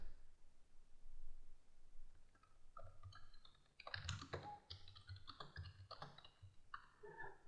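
Irregular bursts of keystrokes on a computer keyboard, fairly quiet and close, with short pauses between clusters of key clicks while text is entered in GIMP.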